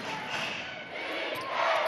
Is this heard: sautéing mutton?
no